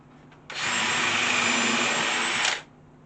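A power drill countersinks a hole in a cut wooden side board for a garden planter, one loud steady whine of about two seconds that starts abruptly and winds down, alone in a quiet space.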